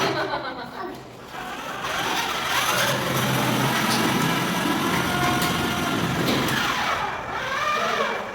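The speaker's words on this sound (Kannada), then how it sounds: "ನೋಡಿ ಫ್ರೆಂಡ್ ಬೈಕ್ ಹೊಡೆಯಕ್ಕೆ ಶುರು ಮಾಡೋಣ" A motorbike engine runs and revs up as a ride gets underway, a steady close hum with rising pitch sweeps, mixed with people talking nearby.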